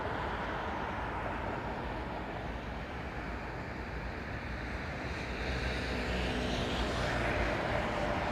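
Airliner decelerating on the runway at London Heathrow Airport, a continuous broad engine roar heard from a distance that swells slightly toward the end, with no voices.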